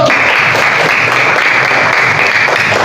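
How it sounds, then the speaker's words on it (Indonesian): Applause from a group gathered for a school coaching session, a dense, steady wash of many hands clapping together for nearly three seconds, loud and close with no talk over it. "Tepuk tangan buat kelompok 1."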